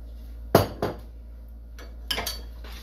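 A utensil clinks against a pan while stirring Thai-style tofu curry with fish sauce: a sharp knock, a softer one, then a short cluster of clinks, close and otherwise quiet.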